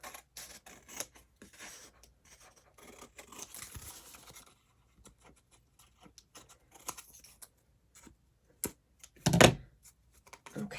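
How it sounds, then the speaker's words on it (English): Quiet snipping and rustling of material, with a sharper cut or crunch near the end; no talking. "I'm just going to grab my scissors, and you can trim away"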